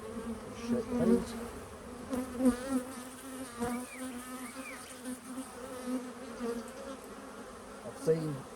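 Honeybees buzzing steadily during a hive inspection as frames are shaken, a close, continuous drone with individual bees flying past, under occasional faint rustling and low talk.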